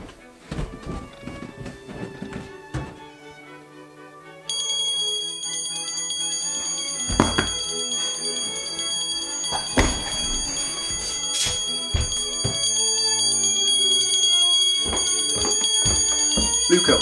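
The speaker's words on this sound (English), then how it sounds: "why are you ringing a bell?" A hand bell rings continuously over busy, comedic indoor sound, its bright metallic tone holding steady from about four seconds to the end while voices and other noises continue beneath it.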